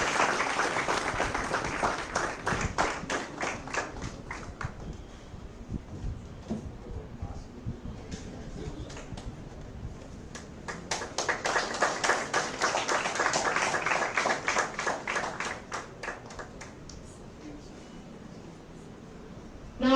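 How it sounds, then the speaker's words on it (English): An audience applauds as a guest is welcomed onto the stage at an inaugural session, steady clapping from a crowd that swells, dips, then surges again through the stretch. "With a big round of applause, please welcome him on the stage"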